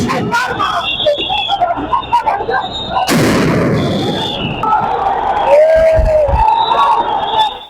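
Loud explosive blasts from police sound grenades burst over a crowded street protest in Dilkusha, Dhaka, where officers charge with batons and use water cannon, with shouting crowd noise and a siren-like wail throughout.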